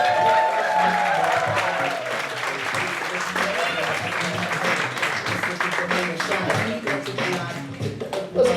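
An audience at a stand-up comedy show applauds and cheers steadily to welcome comedian Andrew Cornelius, the clapping dense and sustained for several seconds while a host's voice rings out at the start.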